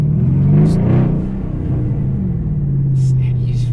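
Mercedes-Benz CLS63 AMG engine revving with a deep, steady rumble that swells near the start and again toward the end, close by, while people talk over it.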